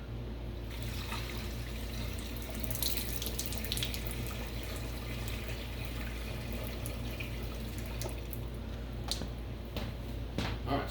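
Water is poured into the radiator of a John Deere A tractor, a continuous faint gurgling trickle with occasional splashes running steadily throughout.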